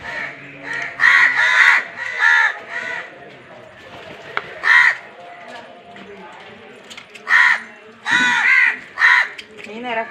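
A crow gives several loud, close bursts of harsh caws separated by quieter gaps, with some faint background activity in between.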